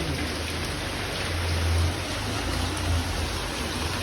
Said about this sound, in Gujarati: વરસાદ જબરો સાવ થઈ ગયો